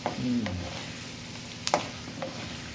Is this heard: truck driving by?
no